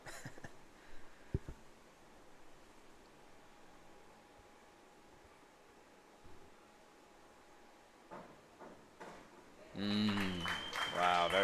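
Spectators at a junior diving championship, boys' 3 m springboard preliminaries, break into a loud burst of cheering and shouting near the end. Before that, quiet indoor pool hall ambience with scattered faint noises.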